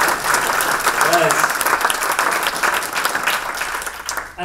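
An audience at a Django programming conference talk gives a burst of sustained applause, dense and fairly loud, with a voice briefly heard over it.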